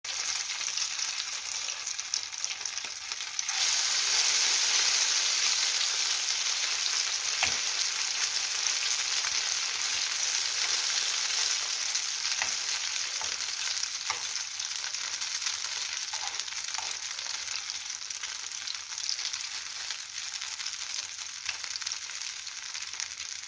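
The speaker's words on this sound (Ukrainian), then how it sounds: "От і другий вже поставила, хай смажиться" Steady, close sizzling of potato pancakes with sausage frying in a pan, getting louder after a few seconds and continuing evenly with faint clinks now and then.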